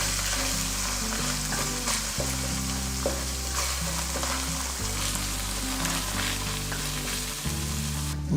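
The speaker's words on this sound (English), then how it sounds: "saute the ingredients for 3 minutes more in the low heat" Spaghetti sauce ingredients sauté in a pan over low heat, giving off a continuous crackling sizzle that stays steady and close throughout, with a faint low tonal hum underneath.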